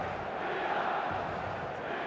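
A dense, steady roar from a stadium crowd in the eFootball game, a continuous wash of massed voices and chanting held at an even, moderate level throughout, with no distinct breaks or commentary over it.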